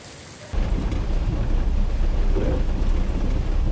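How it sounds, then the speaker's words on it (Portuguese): Heavy rain pours steadily with low thunder rumbling beneath it, starting abruptly after a brief quiet moment and continuing loud and close throughout. "É que tá chovendo aqui."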